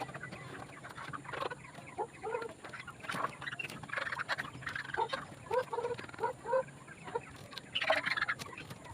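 Pet chickens clucking and squawking in a steady, overlapping chatter at close range while being herded into their coop, with a few louder excited calls rising near the end over faint background noise.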